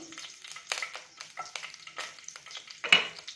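Green chili, ginger and garlic sautéing in oil in a non-stick pan, with soft sizzling and repeated scraping strokes of a spatula, plus one sharper clatter near the end.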